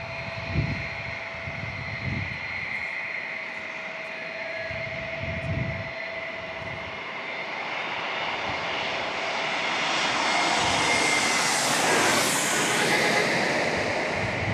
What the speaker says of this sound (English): if I can locate the A321neo. And there it is. From United Airlines.